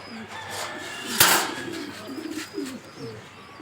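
Racing pigeons cooing close by in soft repeated low calls, with a brief rustle or clack in the middle and someone speaking over them.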